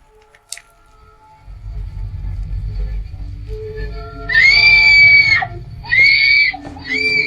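A woman screams in a horror scene, with several loud, piercing shrieks in quick succession over a low rumbling background, after a faint sharp sound near the start.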